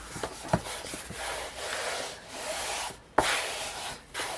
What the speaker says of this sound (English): Just smoothing it out.